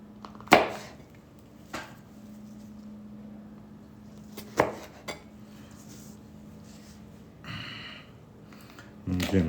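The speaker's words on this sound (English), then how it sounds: "slice them in half, quarter them up" A knife slices habanero peppers, giving a few sharp, separate cuts and taps against the board, spaced out over a quiet background.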